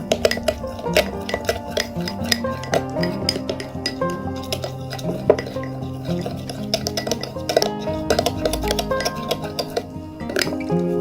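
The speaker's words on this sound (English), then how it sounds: "add 1 teaspoon of rice flour and mix well all the ingredients" A utensil stirs a potato and rice flour cream paste in a bowl, producing repeated clinks and scraping taps against the dish in an uneven, close rhythm, with no talking.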